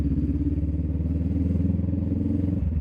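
A motorcycle riding down a road, its engine a steady, close, loud drone with a faint rhythmic pulse that holds for the whole stretch and dips slightly at the end.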